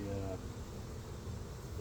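Honey bees buzz steadily around hives at an apiary in hot, humid weather, a close, continuous drone with a low rustle underneath and no pauses.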